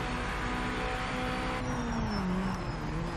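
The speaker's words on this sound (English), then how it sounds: "the sound of the car sounds really good too" Race car engine in Project Motor Racing, a steady, close, droning roar with a whining tone that bends and climbs in pitch toward the end, heard alone with no talk.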